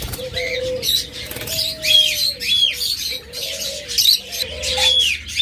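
Pet birds at a sale of budgerigars, diamond doves, lovebirds and cockatiels give soft cooing notes and bright chirps, close and fairly loud, calling repeatedly without a break.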